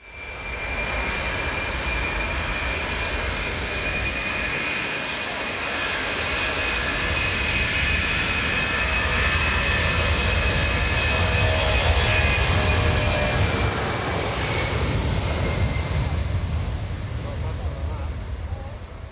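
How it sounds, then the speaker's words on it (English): A United States Air Force C-17 transport jet takes off at an air show, a loud sustained engine roar with whining tones that swells as it climbs, with a voice talking over it. "So as the United States Air Force C-17 gets airborne"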